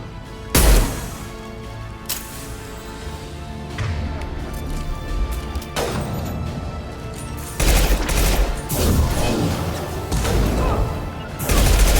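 Rifle gunfire in the Mass Effect 2 Legendary Edition video game, in a Turian combat mission: loud, sharp shots repeat in bursts with booming impacts over constant battle noise.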